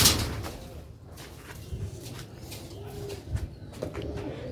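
Sialkoti pigeons on a rooftop loft coo softly in low, repeated calls, with a few brief chirps and rustles around them, close but fairly quiet, with no talking.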